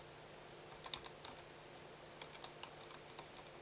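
Key clicks from a computer keyboard while a file name is typed into the Nano editor, short bursts of soft, quiet tapping in an irregular rhythm with brief pauses, close by and alone.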